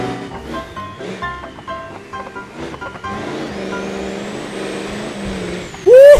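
Engine noise from a car in the video game BeamNG Drive, a rough mechanical drone with clunks and rattles that builds into a sustained rising whine before a sharp loud burst at the end, with no talk over it.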